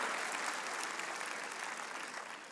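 A church congregation at a Spanish-language Christian sermon breaks into continuous applause, a dense, even roar of many hands that holds steady and tapers slightly toward the end.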